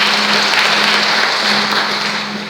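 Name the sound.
lively congregation applause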